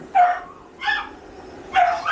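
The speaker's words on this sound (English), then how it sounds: "We got barking again." A dachshund barks three times, short sharp barks spaced out with quiet pauses between them, fairly close, during grooming.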